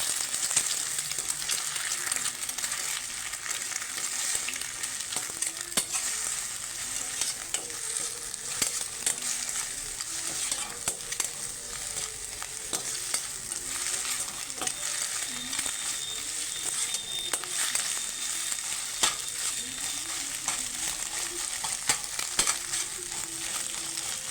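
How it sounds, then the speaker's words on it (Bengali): Egg frying in oil in a restaurant-style kitchen, a steady close sizzle with frequent stirring clicks and scrapes that runs unbroken throughout with no voices. "একদম ঝুড়ি ভেজে নেবো ডিমটা"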